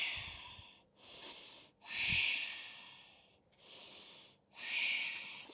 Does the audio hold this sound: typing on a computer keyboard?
no